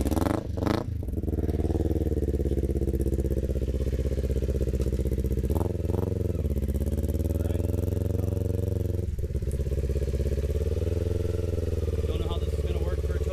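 Kawasaki Ninja 400 motorcycle engine idling nearby, a steady low rumbling hum with brief revs and a few clunks, continuous throughout.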